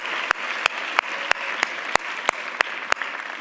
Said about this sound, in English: Can we please just have another round of applause for our amazing, brave ladies that came and shared their hearts.